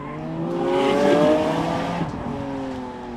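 A Lamborghini Aventador Roadster tears around a circuit in Miami. Its engine note swells and fades over a few seconds as it passes fairly close, with a brief hint of tire squeal.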